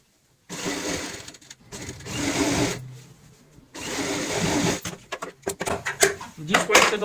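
A sewing machine stitches a cushion for a stool made from an old bucket, running in close, loud bursts broken by short pauses, with rapid choppy runs toward the end.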